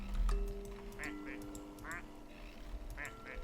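Rubber-duck quacks from the video game Placid Plastic Duck Simulator, several short squeaky calls spaced across the moment, heard under a steady electronic music bed.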